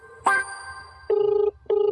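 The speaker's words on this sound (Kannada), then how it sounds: "ರಿಂಗ್ ಆಗ್ತಾನೆ ಇದೆ." An unanswered telephone call rings with a repeating electronic ring tone: one short burst, then two longer steady tones separated by brief gaps, clear and close with no talk over it.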